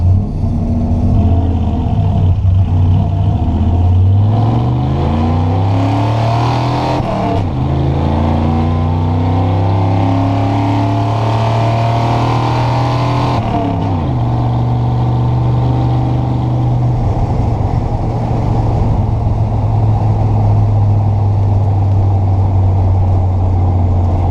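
A car with a three-on-the-tree column-shift manual gearbox accelerates hard, its engine note climbing and then dropping at each gear change. The run is loud, continuous and close, rising in pitch through several shifts before settling into a steady drone.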